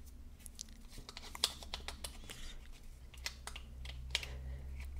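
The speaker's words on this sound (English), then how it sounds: "And now I'm extending the strap and I'm putting it this way." Meta Quest Active strap being extended and fitted onto a VR controller, giving a run of close, quiet plastic clicks, rubs and ticks with a couple of sharper snaps.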